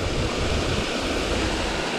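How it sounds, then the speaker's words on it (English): Water pours steadily into a small golf course pond, a close, continuous rushing splash like a little waterfall with no pauses and no talking. "there's water coming in"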